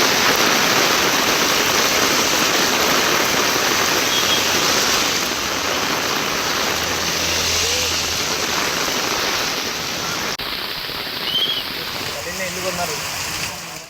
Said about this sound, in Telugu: హైదరాబాద్ లో మళ్లీ భారీ వర్షం కురుస్తోంది.